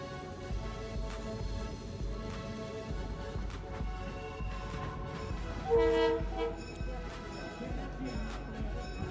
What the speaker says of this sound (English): Our train arrives at the Roaring Camp Depot